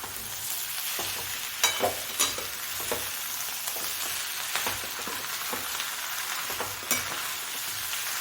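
Vada pav potato filling being mixed in a hot pan gives a continuous sizzle, broken by repeated scraping, clacking strokes of the spoon at an uneven pace, close up and without talk.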